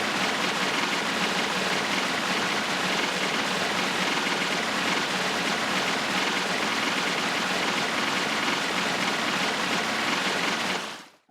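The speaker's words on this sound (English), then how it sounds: "Drains the water out of that." Steady rushing water drains in a Tomb Raider video game, a dense continuous wash that holds for several seconds before cutting off abruptly at the end.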